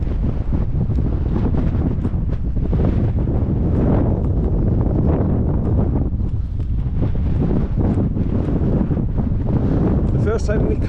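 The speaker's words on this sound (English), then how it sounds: "keep the wind off my face as well at the same time" Strong gusty wind buffets the microphone on an open hillside during a walk, a loud continuous rumbling roar that never lets up.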